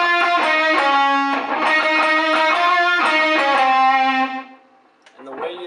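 A distorted electric guitar plays a solo, loud and sustained with bright, bending lead notes. It cuts off near the end, leaving a short quieter tail.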